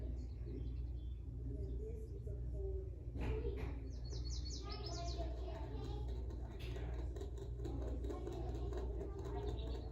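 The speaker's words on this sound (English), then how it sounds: "I see a bird sounds right now" Recorded bird calls play faintly from a museum display, a few soft chirps and tweets rising over steady room hum while people talk nearby.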